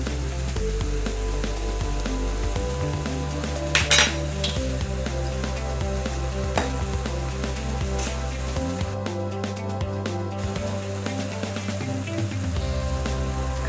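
Bakmie noodles stirred and fried in a hot wok, a steady sizzle with occasional metallic clinks of the utensil against the pan, close and continuous throughout.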